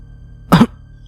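A single sharp cough, close and loud, lasting about a fifth of a second against a quiet, faintly humming background.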